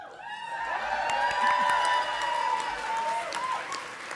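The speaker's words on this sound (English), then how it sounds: "You all are going to get tired clapping if you clap already." An audience at a veterinary medicine hooding ceremony claps with scattered cheers and whoops, moderately loud and sustained, mixed with ringing tonal sound.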